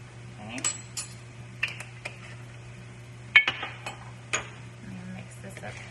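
Spices being stirred in a bowl for shrimp jambalaya: scattered light clinks and taps of a utensil against the bowl, irregular and close, over a steady low hum.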